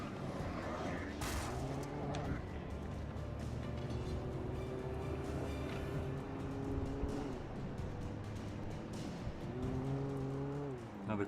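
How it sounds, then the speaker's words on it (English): Car driving on a slippery road in the Alan Wake video game, an engine droning and rising in pitch with repeated revs, steady and moderately close beneath game ambience. "Oh man, this car is slippery."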